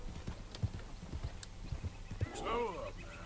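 Clip-clopping horse hooves beat out an uneven rhythm in the open-world western video game Red Dead Redemption 2, followed by a fluttering neigh near the end, at moderate volume.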